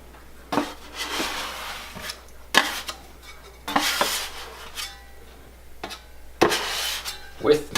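Metal drywall knife scraping and cutting through sourdough pizza dough on a work surface, several short rough scrapes in separate bursts with quiet gaps between them, close and fairly loud.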